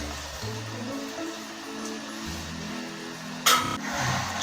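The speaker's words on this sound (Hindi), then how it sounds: "तो पानी हम इसमें शामिल करते हैं।" Water poured steadily into a pot of rice for chana pulao, a continuous splashing rush that stays fairly quiet and even, with a brief louder burst near the end.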